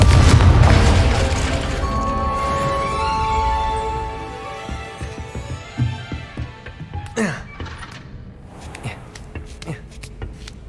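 The Confringo fire spell in the Hogwarts Legacy video game sets off a deep booming blast with a rumbling tail, followed by scattered crackles and smaller pops as the explosion fades.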